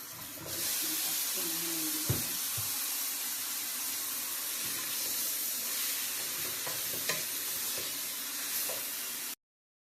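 Minced meat stirred in a pan with spices and tomato puree for lasagna, a continuous close sizzle and hiss with intermittent scraping and stirring clatter, and a short spoken phrase near the start.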